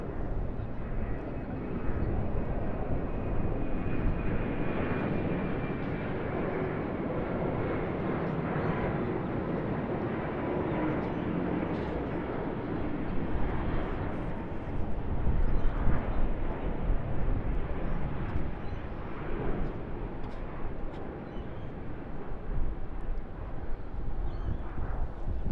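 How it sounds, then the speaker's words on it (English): A China Eastern Airbus A350-900 jet takes off from runway 34 left at Sydney Airport, its engines giving a distant, steady, broad roar with a faint whine slowly sliding lower in pitch. "China Eastern A350-900 now, 34 left."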